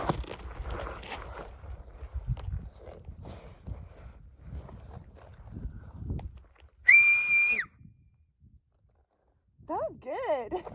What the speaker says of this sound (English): I'm gonna try and whistle for my dogs.